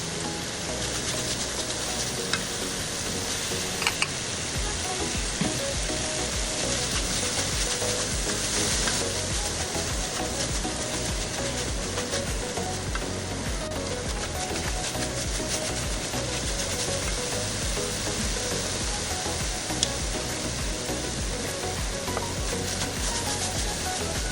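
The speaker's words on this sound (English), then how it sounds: "Fry potatoes and carrots for 2 minutes." Potatoes and carrots fry in avocado oil in a wok, giving a steady, dense sizzle that runs unbroken throughout with faint stirring clatter, fairly close and with no talking.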